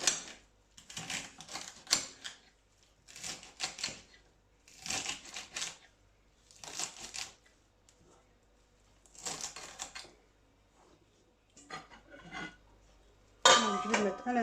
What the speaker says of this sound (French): je vais couper mon céleri.